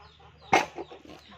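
A single sharp cluck from a chicken on a rural chicken farm, followed by a few softer clucks against a quiet background.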